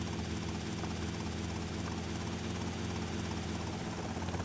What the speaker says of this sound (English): I could barely see it from the helicopter now and searching around.